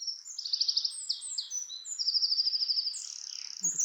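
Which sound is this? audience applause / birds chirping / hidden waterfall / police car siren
birds chirping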